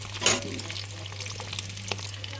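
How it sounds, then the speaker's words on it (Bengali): Eggs coated in turmeric and salt fry in oil, a steady sizzle with a brief louder crackle near the start and a low hum beneath, with no talk. "হলুদ নুন মাখিয়ে নিয়েছি একটু ভেজে নেবো হালকা করে খুব বেশি ভাজবো না"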